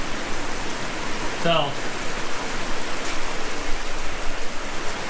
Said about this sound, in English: We've had inches of rain today, probably at least 2 inches of rain, I would say.